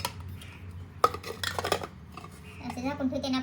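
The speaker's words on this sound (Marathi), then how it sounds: "असे झाकून ठेवते आणि आपल्या ह्याच्याचं प्लेट ठेवते, म्हणजे पाणी जाणार नाही" A metal lid set on a pot and a plate placed on top while lime pickle is made, giving a sharp clink followed by softer clatters, with a faint voice toward the end.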